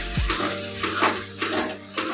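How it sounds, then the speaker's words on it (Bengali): Prawns sizzle as they fry with spice paste, a steady crackle under rhythmic scrapes and knocks of a spatula stirring the pan. "দিয়ে মশলার সঙ্গে চিংড়ি মাছটাকে কষিয়ে নেব।"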